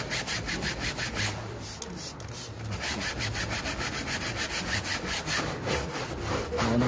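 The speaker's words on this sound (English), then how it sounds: "For this seat we'll take something a bit more heavy duty, some stain remover for instance. Cover it. And then just scrub it all into it." A brush scrubs stain remover into a 2007 Suzuki Swift Sport car seat in quick, rhythmic back-and-forth strokes, close and steady throughout.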